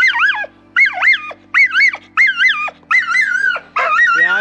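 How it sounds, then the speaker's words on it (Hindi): Dog barking in a quick run of about six sharp, squeaky, high-pitched barks, loud and close, with a low steady hum beneath. "ये भाई मुझे देखते ही भौंकने लग गया"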